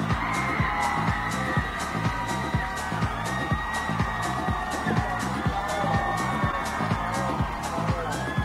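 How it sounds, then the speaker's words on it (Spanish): A large audience at the Miss Mexico 2023 pageant final keeps up steady cheering and shouting while a heavy rhythmic music beat pulses underneath throughout. "¡Fuerte el aplauso para recibir a Miss Guanajuato!"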